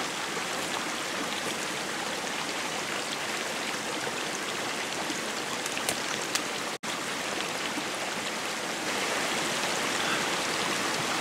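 Ice-cold mountain stream fed by snowmelt from a snowfield just above, rushing steadily and close by as a continuous broadband wash of water with no voices.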